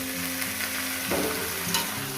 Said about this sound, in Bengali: আরও ছ মিনিট আমি হলুদটি দিয়ে ভেজে নেব